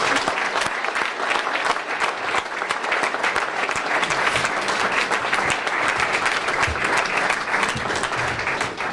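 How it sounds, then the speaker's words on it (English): A university audience applauds steadily for Kimo Ah Yun, newly named next president of Marquette University, and his family: a dense, loud, unbroken round of clapping that holds at full strength throughout. "let's give Kimo and his family just a quick round of applause"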